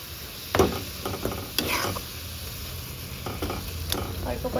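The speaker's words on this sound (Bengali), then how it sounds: "এবার দিয়ে দিই অল্প অল্প করে কড়াইতে। চলো নাড়তে লেগেছি, এই যে চারিদিক দিয়ে মানে তেলটা ছাড়তে লেগেছে।" Sweet naru mixture stirred in oil in a kadai, with a steady sizzle of frying under intermittent scraping and stirring strokes, close by and fairly loud.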